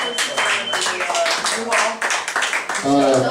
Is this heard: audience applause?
yes